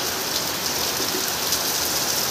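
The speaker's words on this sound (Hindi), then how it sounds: "कितना ज़ोर से आ रहा आवाज़ करते हुए।" Loud, continuous downpour drumming on a surface, a thick even roar of rain with no talking.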